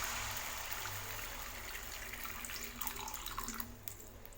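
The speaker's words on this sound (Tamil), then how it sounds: "அதுக்கு 2 கப் அளவுக்கு தண்ணி ஆட் பண்ணிக்கோங்க" About two cups of water pour steadily into a metal pan of sugar for bread halwa, a continuous splashing rush that fades toward the end with a few small clinks.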